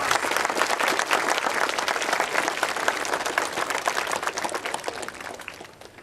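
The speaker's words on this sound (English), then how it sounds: "Please give all of my staff a round of applause" A round of applause for the staff at Pioneer Elementary School's 2013 ribbon cutting ceremony, dense and sustained clapping from a large crowd that holds steady and then fades slightly toward the end.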